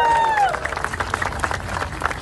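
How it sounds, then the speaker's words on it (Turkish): Wedding guests break into applause and cheering from a crowd, a dense patter of clapping and hubbub following a brief high tone at the start. "Evet, alkışlıyoruz."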